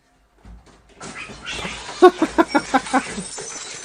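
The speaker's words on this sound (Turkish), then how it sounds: "Bu kediyi görüyor musunuz?" A cat yowls and meows in a rising, drawn-out series of cries, growing louder into a run of rhythmic caterwauling pulses close by.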